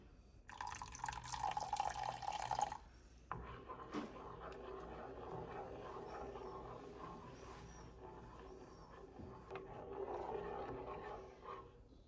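Hot noodle water is poured into ramen in a pan with the heat off. It gives a loud splashing burst first, then a steady softer trickle and bubbling that fades out.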